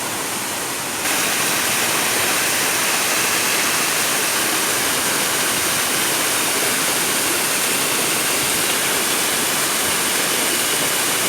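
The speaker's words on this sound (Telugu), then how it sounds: "యాభై ఏడుగుల ఎత్తు నుంచి దూకుతున్న జలపాతం" A steady, loud roar of water falling from about 57 feet at Kaigal waterfall in Chittoor district, a constant broadband rush with no pauses, as if standing close to the falls.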